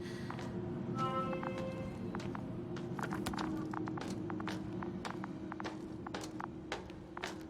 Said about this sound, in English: His footsteps.